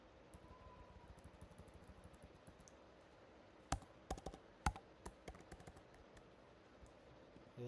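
Keys clacking on a computer keyboard as a console command is typed, a quick burst of crisp clicks in the middle of an otherwise quiet stretch, close and fairly faint, with no talking.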